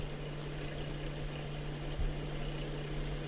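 A wood lathe runs steadily at speed with a constant low hum and a faint whir. The sound is even and fairly quiet, and no voices are heard.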